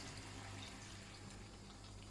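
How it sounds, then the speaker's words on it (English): Almost a full tin of water poured from an emptied tomato tin into a cooking pot, giving a steady, continuous low splashing and gurgling that runs unbroken for about two seconds, close up and fairly quiet. "I just put almost a whole tin of water as well"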